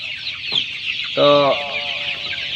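Tiger breed chickens on a poultry farm cluck close by, one loud harmonic cluck standing out in the middle after a shorter call, while a brief spoken word and steady background hiss sit beneath.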